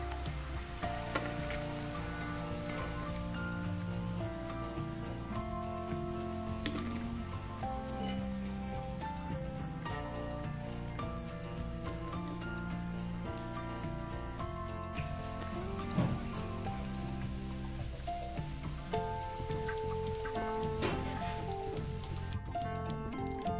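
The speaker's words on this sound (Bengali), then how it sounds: "আমি এইভাবে সবগুলোই ভেজে নেব।" Cauliflower berestha frying in hot oil, a continuous soft crackling sizzle with faint popping, steady and close, with background music playing.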